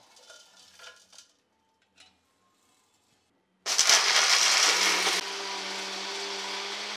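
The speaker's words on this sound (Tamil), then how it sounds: "மிக்ஸி ஜாரில் போட்டு தூள் பண்ணிக்கலாம்." Roasted masala spices rattle in the jar of a kitchen mixer grinder. Before it starts, a few clinks and taps sound, then the motor bursts into a loud, harsh whirring grind that drops to a steadier, lower hum after a second or two.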